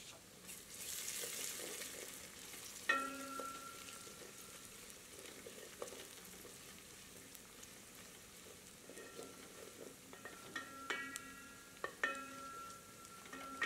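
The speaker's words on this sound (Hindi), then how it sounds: "इसे मध्यम आंच पर 3 से 4 मिनट भूनते हैं ताकि यह थोड़ी पारदर्शी हो जाए" Steady sizzling of onions and curry leaves frying in a pan over medium heat, a soft continuous crackle with occasional clinks and scrapes of stirring, no voices.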